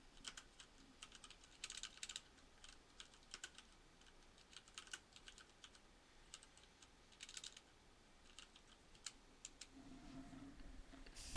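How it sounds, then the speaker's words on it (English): Typing on a computer keyboard, a run of quick, close key clicks coming in irregular bursts with short pauses between them, fairly quiet over a soft background. "I hate typing."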